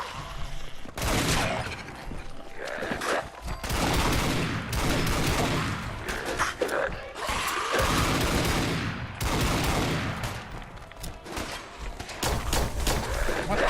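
Rapid bursts of gunfire in Fallout 4's Far Harbor, loud and repeated in several volleys separated by short pauses, with a voice occasionally heard between shots.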